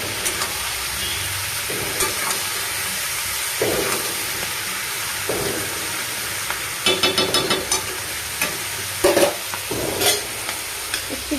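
Malabar spinach (pui shak) cooks in a covered pan, giving a steady sizzle and hiss of steam broken by intermittent scraping stirs and clinks, close and moderately loud.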